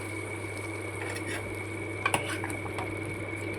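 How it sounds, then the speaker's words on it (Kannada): Spices tempering in hot oil for a coastal wild mango curry, a steady soft sizzle with a constant low hum, a sharp metallic clink of a spoon against the pan near the middle. "ನಾನಿಲ್ಲಿ ಇವಾಗ ಇದಕ್ಕೆ ಒಗ್ಗರಣೆ ಹಾಕ್ತಿದ್ದೀನಿ"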